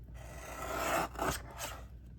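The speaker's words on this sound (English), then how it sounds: "now we're going to start cutting some 2 3/4 inch" A paper trimmer slicing paper into 2 3/4 inch squares for a craft, two or three brief close rasping blade strokes over a quiet hiss, no talking.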